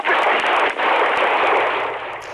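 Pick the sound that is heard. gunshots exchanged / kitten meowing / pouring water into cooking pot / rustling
gunshots exchanged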